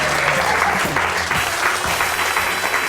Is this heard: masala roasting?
no